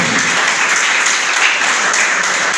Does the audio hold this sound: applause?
yes